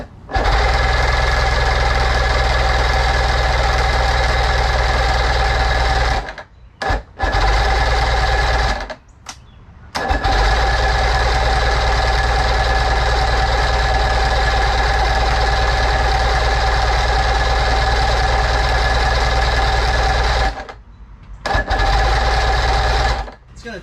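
A Force 125 outboard engine cranks with a fast, steady mechanical chatter in long loud bursts, broken by short pauses between attempts, close by and without any clear catch into running.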